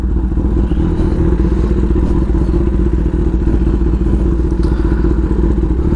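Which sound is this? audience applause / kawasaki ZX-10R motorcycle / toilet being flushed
kawasaki ZX-10R motorcycle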